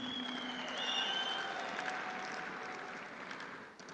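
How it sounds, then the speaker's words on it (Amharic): Audience applause at an award ceremony in Ethiopia, a steady wash of clapping that holds for about four seconds at moderate loudness, with faint tonal sounds in the background. "እስቲ አንድ ጊዜ አጨብጭቡ ፕሊዝ።"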